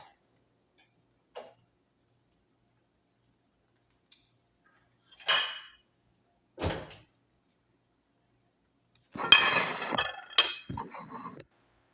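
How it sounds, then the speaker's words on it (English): Plates and dishes clinking as someone fetches a plate in a quiet kitchen: a few scattered sharp clinks and clatters with silence between them, ending in a short cluster of rattling knocks. "I'm gonna go get a plate"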